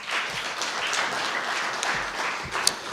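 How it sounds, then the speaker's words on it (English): An audience at a corporate stakeholder roadshow applauds the CEO with steady, dense clapping that stays even in loudness throughout, sounding like a full room at moderate distance. "Ladies and gentlemen, another round of applause for the CEO."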